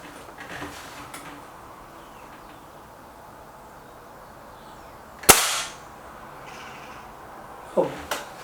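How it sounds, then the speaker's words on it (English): An SMK Model 19 Supergrade air rifle fired at a target outdoors, one sharp, loud crack standing out against quiet background noise, followed later by a softer mechanical clack. "And the last shot now into the 4 target."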